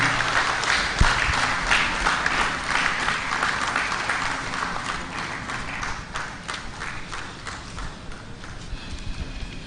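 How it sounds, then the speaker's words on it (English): An audience at a finance seminar applauds steadily for several seconds, a dense patter of many hands that fades slightly toward the end, with no voices over it. "A round of applause, please."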